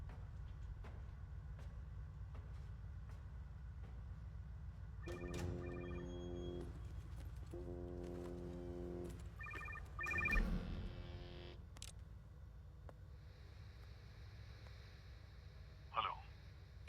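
A telephone rings in repeated bursts of a two-tone electronic trill at moderate distance over a steady low background hum, with a brief faint tone near the end.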